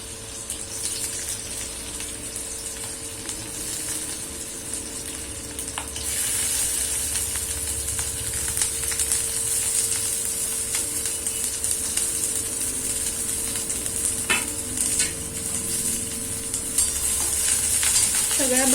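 Garlic, onion and mixed vegetables sizzle in a pan for egg fried rice, a loud steady hiss that jumps up partway through as more goes in, with occasional clinks of a stirring spoon and no speech.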